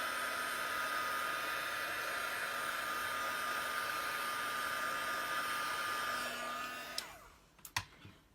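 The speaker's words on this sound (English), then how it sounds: "I'm going to heat set it again just to make sure all of that's dry." Electric heat tool blowing steadily to heat-set and dry stencil paint, a loud continuous whooshing hum with a faint whine that runs for about seven seconds, then switches off, leaving a few small clicks and handling sounds.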